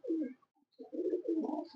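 Pakistani flying pigeons coo softly nearby, low throaty warbling calls repeating in short bursts with a brief quiet gap between them.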